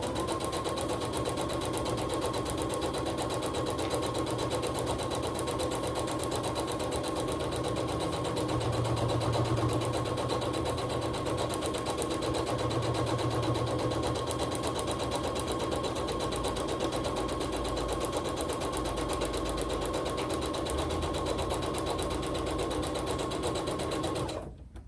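A sewing machine runs continuously at steady speed, stitching small stitches through a fabric quilt block, with a fast even mechanical whir and needle clatter close up throughout, stopping abruptly at the end.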